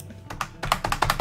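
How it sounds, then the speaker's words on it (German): Keys clatter on a computer keyboard that isn't working properly, a run of close, crisp taps: a few uneven strokes, a brief pause, then a quicker steady burst of regular clicks. "Meine Tastatur funktioniert nicht so wirklich."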